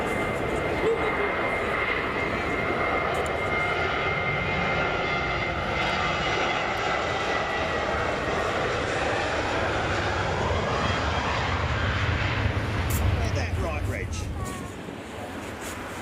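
Etihad Boeing 777 jet airliner engines roar and whine steadily at Frankfurt Airport, a sustained loud, broad rumble with a rising tone before fading slightly near the end, outdoors with some wind.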